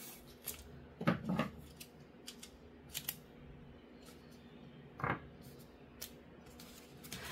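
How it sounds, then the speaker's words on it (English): Heat tape is pulled and cut to hold a sublimation setup on MDF keyring disks together, giving faint close snips and small crackles against a quiet background. "we're going to use some of our heat tape to hold this all together."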